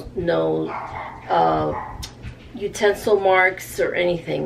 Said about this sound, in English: And if you hear my dog barking, she always barks. She's a terrier.